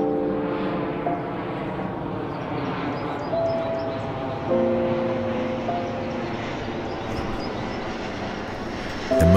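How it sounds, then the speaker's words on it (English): A steady droning engine roar of an airplane overhead, sustained and fairly loud, with faint bird calls in the background. "Is the airplane passing overhead a threat?"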